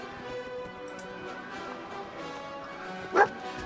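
Companion dog in the video game Fallout 4 giving a single short, sharp bark near the end, over quiet background game music.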